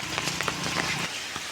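Heavy rain from a 2025 cyclone falls at Peradeniya University in Sri Lanka, a dense continuous hiss with scattered drop patter and small splashes that stays fairly even throughout.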